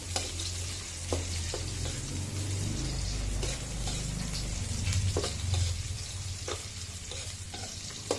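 Onion, garlic and ginger sizzle steadily in a hot pan for catfish, with a continuous frying hiss and occasional clinks of stirring.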